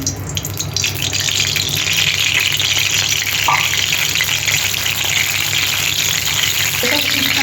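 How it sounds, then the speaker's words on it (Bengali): Cooking oil poured into a hot pan for dim bhujia sizzles loudly and steadily, a dense continuous hiss with a faint clink partway through and no talking over it. "আমি এবার রান্নার জন্য তেলটা দিয়ে দিচ্ছি।"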